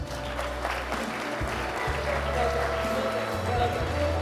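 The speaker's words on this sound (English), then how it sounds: "A round of applause at the exit," Audience applause fills a hall at the closing ceremony of the World Geothermal Congress 2026, a steady, dense wash of clapping throughout, mixed with low hum and some indistinct voices.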